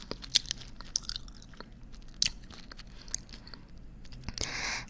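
Close-up ASMR mouth sounds of chewing and biting, with scattered soft crunches and wet clicks at an irregular pace, intimate and quiet.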